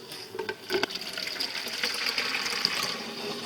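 Water drains steadily from a reverse osmosis purifier tank, a continuous close splashing flow with a brief burbling surge at the start.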